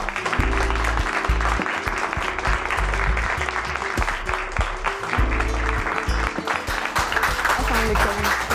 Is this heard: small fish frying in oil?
no